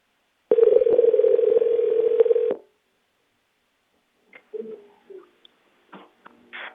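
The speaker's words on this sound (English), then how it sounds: "We're gonna give her a call on the burner phone" A steady ringing tone from a call placed on a burner phone sounds for about two seconds, then stops; afterward come scattered faint clicks and brief noises.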